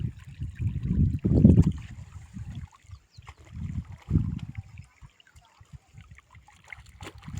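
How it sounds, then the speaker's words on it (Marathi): Water swishing through mud on a village farm path, heard as close, irregular low sloshing surges that swell and fade, strongest near the start and again midway, with no talk. "किती नाद आला चिखलातला पाण्यातला."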